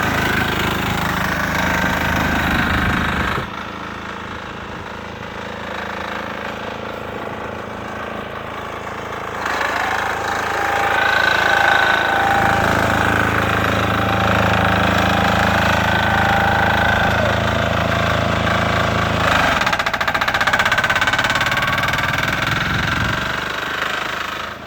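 A modified 6 HP diesel Sears Suburban garden tractor engine runs steadily with a rough, knocking chug, rising in loudness partway through and holding a constant mechanical drone.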